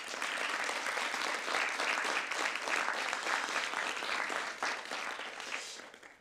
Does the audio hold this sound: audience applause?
yes